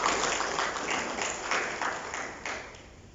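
Faint audience applause for a speaker at a round-table event, steady clapping through about three seconds that gradually fades.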